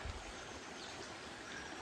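Mountain creek water flows steadily in a shady canyon along the Gila trout stream, a continuous close rushing wash that stays even throughout with no voices.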